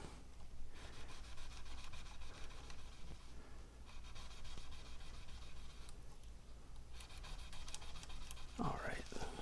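Guitar frets on a Fender Telecaster neck are polished through a small fret guard, giving soft repetitive rubbing and rasping strokes, close and fairly quiet, with a brief voice near the end.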